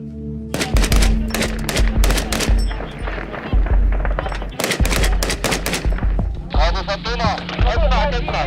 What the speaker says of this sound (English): These guys are trying to take out the fighters with 50 caliber machine guns